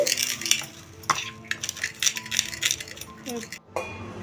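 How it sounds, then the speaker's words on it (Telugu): Roasted coriander seeds, cumin and black pepper are pounded with a dal masher, giving irregular knocks, clinks and scrapes of metal against the vessel, with a voice talking faintly underneath. "నేను మిక్సీలో వేసుకోవట్లేదండి పప్పు గుత్తితోటి మెదుపుకుంటున్నాను"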